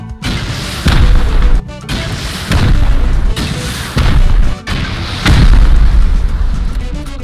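Rocket explosions in the game Rust, three loud, heavy booms a couple of seconds apart, each followed by a long rumbling tail.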